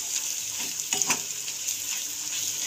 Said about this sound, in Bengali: লবণ হলুদ দিয়ে আবার একবার ভালোভাবে মশলাটা কষিয়ে নেব।